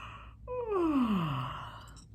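A single drawn-out human yawn at bedtime, sliding downward in pitch and trailing off into a soft sigh, close and alone.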